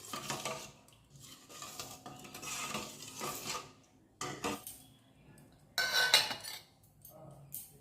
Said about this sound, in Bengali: গরম জল দিয়ে গুড়টাকে গুলিয়ে নেব।